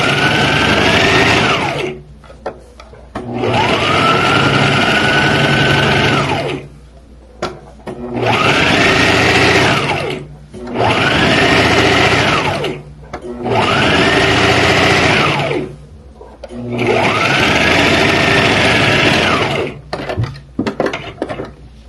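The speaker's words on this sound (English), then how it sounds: "Want to do a second stitch." A sewing machine stitches an abaya in five separate runs, each a close, loud whirring burst of a couple of seconds with a rising pitch as it speeds up, separated by short quiet gaps.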